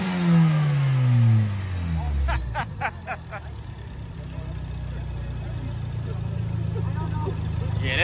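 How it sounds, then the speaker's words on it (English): A tuner car engine at a pop-up car meet revs hard, then drops off with a short rapid burst of blow-off valve chatter, settling into a steady loud rumble while people talk nearby. "That blow off valve, something serious, man."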